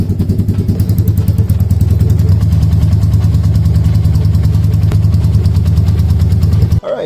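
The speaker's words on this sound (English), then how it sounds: "now that we allowed the bike to idle for a couple of seconds or a minute" A motorcycle engine idles after an oil change, close and loud with a steady, even chugging pulse, then cuts off abruptly just before the end.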